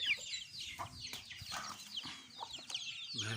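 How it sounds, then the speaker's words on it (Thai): Fighting cock chicks peep and cheep continuously in high, overlapping calls close by, with a brief lower sound at the very end. "ลูกไก่ชนครับนี่ครับ"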